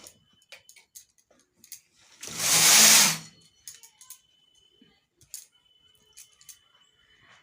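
A domestic knitting machine carriage swept once across the needle bed for a row of stitches while knitting a sweater, one smooth whirring pass lasting about a second, close and fairly loud, framed by faint clicks of needles being set.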